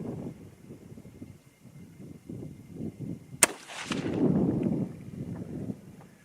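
A single sharp, loud rifle shot from a Uintah Precision UPR-15 in 6mm ARC firing Sierra 90-grain TGK bullets, a sudden crack with a rumbling echo rolling away outdoors amid wind noise.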